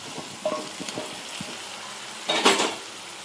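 Jackfruit pieces tossed into sizzling masala in a pan, with scattered clinks and stirring scrapes and a louder burst of frying hiss near the end; no talking.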